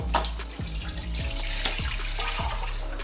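Spring water from a village well runs steadily from a tap, a continuous splashing stream with a few soft low knocks, no voices.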